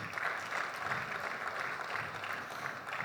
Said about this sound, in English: Don't you think she deserves a better applause?